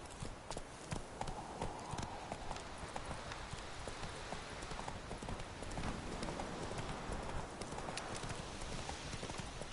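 The horse Roach gallops in the Witcher 3 video game, hooves clip-clopping in a quick, steady rhythm close by, continuous throughout with a dense outdoor ambience underneath.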